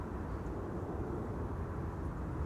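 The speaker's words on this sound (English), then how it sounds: "790 arriving from Athens. It's an A320 Neo." A Sky Express Airbus A320neo landing on runway 27 at Amsterdam Schiphol, heard as a faint, steady, distant jet roar without talk.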